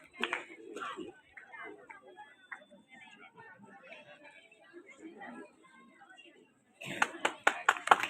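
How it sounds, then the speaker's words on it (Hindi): A short, loud burst of clapping for a guest at a village felicitation ceremony honouring a national hockey silver medallist, breaking in sharply after a stretch of speech and a brief pause. "जोरदार तालियां।"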